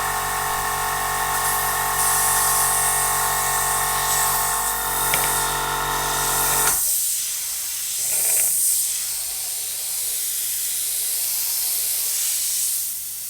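An airbrush sprays paint in a steady, close hiss for a beginner practicing distance control, with a tonal compressor hum underneath that cuts out midway while the softer hiss carries on.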